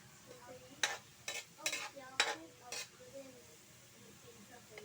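Garlic frying in a pan for a Filipino dilis dish, several loud spatula scrapes and clatters in the first half over a faint low sizzle, the pan then going quieter, close by.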